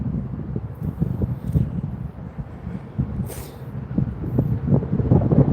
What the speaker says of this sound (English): Windy, windy, windy.